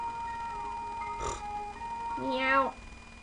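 A single drawn-out meow from a cat in Chrono Trigger rises and falls near the end, following a brief burst of noise, with a steady electronic hum underneath.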